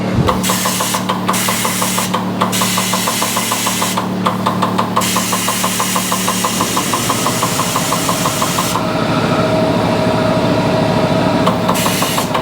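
Air hissing steadily into a 1949 Willys tire tube for a short fill, a continuous close rushing with a rhythmic mechanical pulsing from a running compressor or engine throughout, louder and brighter toward the end.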